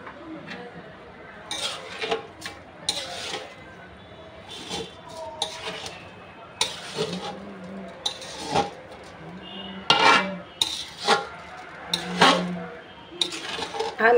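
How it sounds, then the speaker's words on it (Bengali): Khichuri cooking in a big wok, with a series of irregular metallic clanks and scrapes from stirring, loud close bursts separated by quieter stretches, and some background voices. "কত বড় কড়াইয়ের মধ্যে রান্না করছে।"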